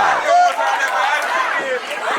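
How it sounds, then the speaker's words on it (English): Wrestling fans at a Southern Honor Wrestling event cheer and shout, a loud, continuous crowd roar with excited voices throughout. "Crowd's not done either. They want more."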